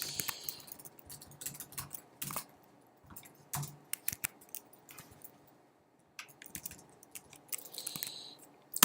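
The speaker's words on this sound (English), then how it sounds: "I'll just do some typing for a second" Someone types on a computer keyboard during a Python programming session, producing irregular bursts of close, crisp key clicks with short pauses between runs.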